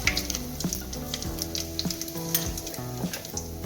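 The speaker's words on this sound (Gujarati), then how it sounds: "અડધી ચમચી આપણે હિંગ નાખીએ." Asafoetida and spices with curry leaves crackle and sizzle in hot oil, a close, continuous frying hiss with faint stirring underneath.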